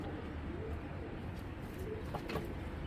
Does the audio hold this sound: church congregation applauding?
no